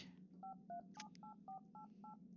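Telephone keypad in the Darkness Within horror game, a seven-digit number being dialed: a steady run of crisp, evenly spaced DTMF beeps over a low background hum, with a brief click partway through.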